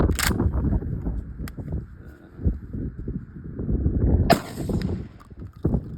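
Two sharp, loud blasts from an ASELKON S4 shotgun ring out, one near the start and another about four seconds later, each with a broad crack and echo over background noise.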